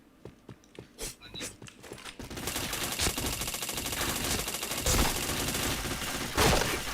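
Video game gunfire sounds first as a few separate shots, then becomes dense, sustained automatic bursts that stay loud and close for several seconds with sharper peaks along the way.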